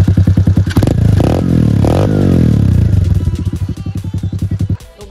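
A 125cc dirt bike engine fires up and runs with a rapid, regular thumping beat. It rises through two quick revs, settles back to a chugging idle and cuts out just before the end, loud and close.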